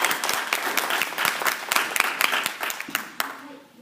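A small audience gives a short round of applause for a singer, a few seconds of scattered clapping that thins out at the end.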